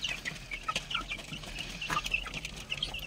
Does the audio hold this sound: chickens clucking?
yes